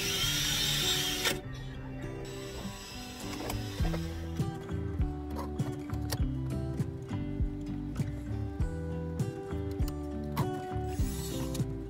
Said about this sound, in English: we're gonna drill holes.